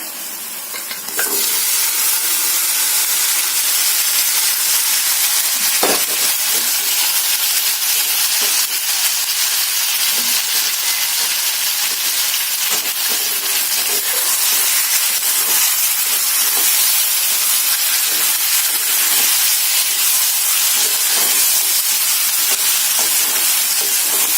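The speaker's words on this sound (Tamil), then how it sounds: "இப்ப இதுல நான் வேக வச்ச மட்டன் ஆட் பண்றேன்" Cooked mutton hits a hot pan for a pepper fry and sizzles loudly and steadily, with a continuous close hiss of frying and steam and occasional stirring clinks throughout.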